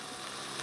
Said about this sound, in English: Got the potatoes in there frying with the beef.